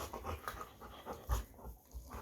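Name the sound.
dog panting during rough play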